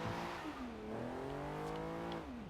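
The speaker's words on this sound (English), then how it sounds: "just accidentally do a ridiculously epic drift" An Aston Martin DB5 in the Forza Horizon 2 racing game drifts hard, its engine note swooping and bending in pitch as it slides, loud and steady throughout with a brief faint tire squeal.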